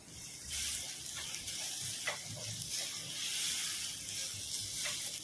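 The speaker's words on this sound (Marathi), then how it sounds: "ती खमंग अशी फोडणी झाली पाहिजे" Tempering for a raw banana vada filling sizzles steadily in a pan with turmeric added, a constant bright hiss with occasional soft stirring scrapes, close and moderately loud, with no talking.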